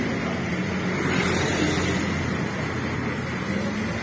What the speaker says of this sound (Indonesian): Ini knalpotnya saya seneng banget ya, karena ini masih knalpot ngorok teman-teman, atau knalpot war gitu ya.